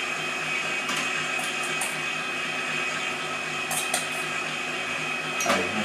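Electric hand mixer beating butter, sugar and almond powder for a Nantais cake, a continuous whirring motor hum with occasional higher scraping bursts against the bowl.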